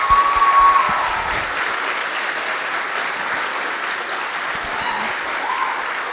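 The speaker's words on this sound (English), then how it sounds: "let's give them one more round of applause." High school students are applauded by the audience at a recitation evening. Sustained, even clapping from a large crowd fills the room, with a faint voice at the very start and little change in level throughout.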